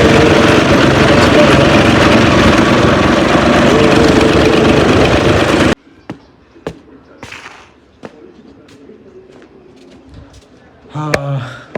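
A tractor engine runs loud and steady, then cuts off, leaving a quiet outdoor scene with birds and scattered knocks and clicks.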